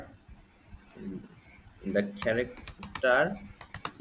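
Someone types C code on a computer keyboard, with clusters of close, clicky keystrokes heard under steady talking.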